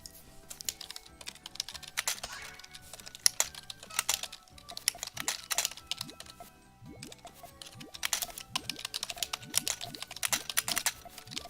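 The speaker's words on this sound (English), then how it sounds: "I'm gonna be typing for a little bit, so my bad" Computer keyboard typing during a live stream, rapid uneven bursts of clicky keystrokes close to the microphone, pausing briefly midway before picking up again, with no voices.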